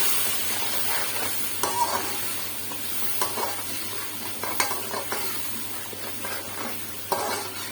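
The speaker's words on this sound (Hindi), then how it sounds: "मैंने इसको प्याज को जो ग्राइंड किया था उसको मैंने डाल दिया है चिकन में।" Chicken frying in a pot with ground onion, ginger, garlic and tomato for degi biryani, a steady sizzle with repeated scraping stir strokes throughout.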